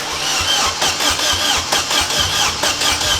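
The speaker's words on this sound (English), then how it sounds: "Then it was ready to give the engine a crank." A rebuilt Vauxhall Corsa VXR engine cranks over without firing: a rhythmic, close churning from the starter motor that pulses steadily throughout, with no voices.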